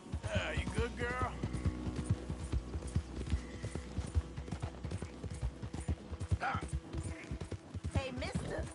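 Horse hooves clip-clopping at a steady pace in the game Red Dead Redemption 2, under a busy mix of voices and other noise, with a brief whinny.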